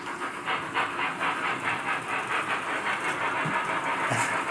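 Southern Pacific model trains run on a layout, giving a steady close rolling rattle and a faint rhythmic clatter over a continuous hiss, with no voices.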